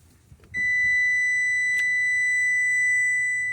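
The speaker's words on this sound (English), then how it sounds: "Alright, that's the car alarm." A car alarm sounds during a radiator coolant flush: after faint rustling, a loud steady electronic tone starts and holds unbroken for about three seconds, with a brief click midway.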